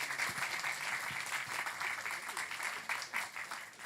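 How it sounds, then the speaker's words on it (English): Steady audience applause fills a hall at an indie game awards ceremony, a dense wash of many hands clapping at moderate distance for about four seconds, with no voices on top. "A round of applause for them too."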